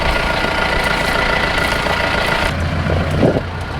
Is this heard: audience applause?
no